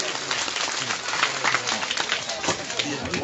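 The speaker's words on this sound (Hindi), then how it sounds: "जोरदार तालियां जगदीश जी के लिए।" Enthusiastic clapping from a crowd seated in a pandal at a religious discourse gathering in Haryana, dense and continuous, with a voice speaking faintly at moments over the noise.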